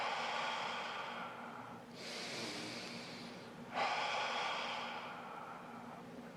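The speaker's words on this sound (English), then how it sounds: "That's circular breathing." Slow circular breathing, drawn in through the nose and let out through the mouth: three long, airy breaths in a steady rhythm, close to the microphone and otherwise quiet.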